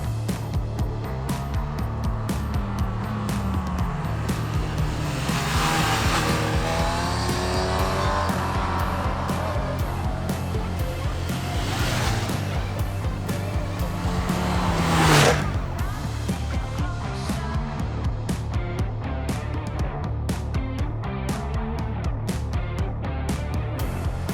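Honda CB1000GT crossover motorcycle being ridden, with a steady engine drone and wind roar that rises and falls through gear changes and throttle, one sharper peak near the middle, no talk.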